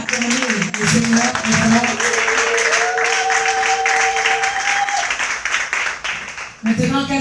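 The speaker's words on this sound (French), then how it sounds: "Est-ce qu'on peut acclamer le Seigneur?" A church congregation at a teaching session for couples applauds and cheers to acclaim the Lord, a loud, steady wash of clapping and raised voices that drops off near the end.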